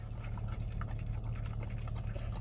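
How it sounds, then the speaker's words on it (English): A dog's low, steady growl over food, from food aggression, rumbles continuously at close range beneath faint clicks and household noise. "So what you guys heard there was Cray's little growl"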